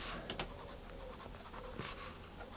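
A Cold Grey 5 colored pencil scratches short lines onto paper in a drawing of a hat, soft and close, with quick strokes repeating faintly and steadily.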